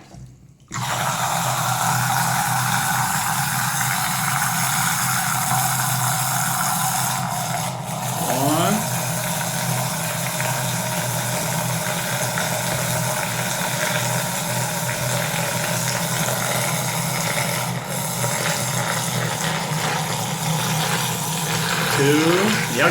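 An electric mixer bottle whirs continuously while blending Spark with a protein shake, a loud steady motor drone lasting the whole stretch, with small pitch dips as the mixture thickens.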